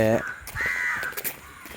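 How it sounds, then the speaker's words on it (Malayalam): Harsh crow caws ring out in open air during a morning outing near Kappil beach, a few loud calls close by with faint background noise. "കാക്കിയുണ്ട്"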